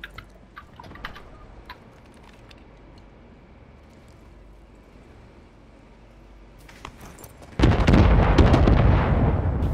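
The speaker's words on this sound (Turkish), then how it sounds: "Adamın mayınları patladı." Quiet crackling and clicks, then a sudden loud landmine explosion in Call of Duty: Warzone that roars and rumbles for the last couple of seconds.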